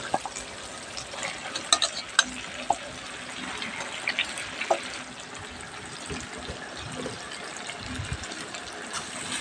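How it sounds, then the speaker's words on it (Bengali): Domestic duck meat being turned in a pan of fried masala and pickle for a red bhuna, with a steady close sizzle and scattered scraping clicks of a spatula throughout. "ভালোভাবে নাড়াচাড়া দিয়ে মাংসটাকে মিশিয়ে নিতে হবে"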